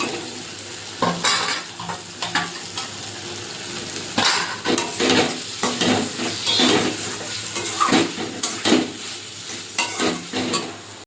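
Spice masala for stingray curry is sautéed with fried potatoes in a pan, with loud, repeated spatula scrapes and clatter over a continuous sizzle, near and without speech.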